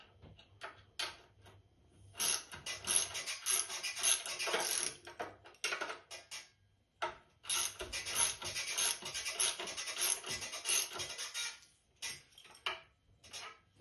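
A screw being tightened on the thread stand of an industrial sewing machine table, heard as two long bursts of close, bright scratching and ratcheting with short ticks and quiet gaps between.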